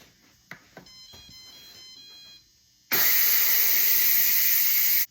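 A Deluxe Multi-Cooker pressure cooker releases its steam in a sudden loud, steady hiss that starts abruptly after a few quiet kitchen clicks and continues close and constant for about two seconds before cutting off.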